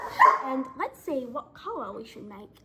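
A pet dog gives a string of short, close yips and whimpering barks spread across the moment, mixed in with someone talking nearby in a quiet room.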